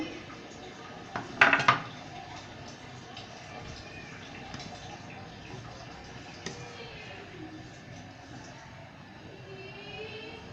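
Pre-fried vermicelli tipped into a cooking pot for coconut-milk sweet vermicelli, giving a short metallic clatter and rattle near the start, then a low steady kitchen background with no talk.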